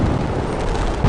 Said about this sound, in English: I can see the explosions and everything.